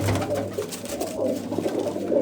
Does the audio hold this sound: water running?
no